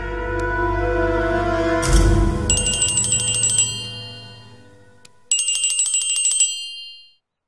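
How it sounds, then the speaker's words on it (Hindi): An electronic phone ringtone plays loudly, a melodic tone followed by bright trilling rings in two bursts, then stops. "अरे ममुआ फोन उठाओ"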